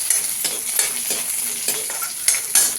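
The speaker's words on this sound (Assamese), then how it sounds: "দাইলখিনি তেল মাৰি লওঁ।" Lentils frying in hot oil in a wok (kerahi), a steady close sizzle broken by repeated scraping stirs at a regular pace.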